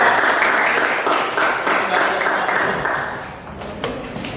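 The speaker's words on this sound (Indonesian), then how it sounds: "kita beri tepuk tangan untuk kelompok" A classroom audience applauds a student group after its presentation, steady clapping from many hands filling the room, close and fairly loud for about four seconds before thinning slightly toward the end.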